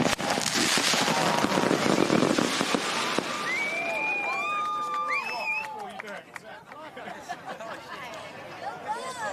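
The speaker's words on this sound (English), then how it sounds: "Fireworks go on." Fireworks go off at a football event, with a dense crackling burst at first, then whistling shells and scattered pops as the noise thins. A crowd chatters and cheers underneath.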